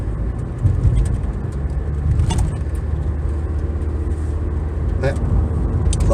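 A car cruises along a country road with a steady, loud low rumble of engine and tire noise. A few faint rattles come from inside the cabin, and someone talks over it.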